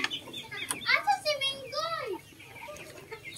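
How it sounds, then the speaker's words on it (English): Hens and a rooster moving about a pullet pen on a farm give short clucking and crowing-like calls mixed with a voice nearby. "So the hen and the rooster they've been walking around."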